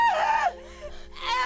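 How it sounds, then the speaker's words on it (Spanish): A woman's scream in a Spanish-language audio drama, a baroness crying out while being struck: a high, wavering cry that drops off midway, then rises again briefly near the end, close and fairly loud. "La baronesa empezó a gritar."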